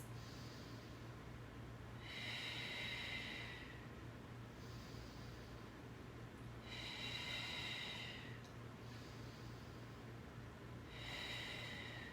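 Three slow, deep breaths during a yoga session, each a long airy inhale or exhale of about two seconds with quiet gaps between, close and soft over a low background hum, with no talking.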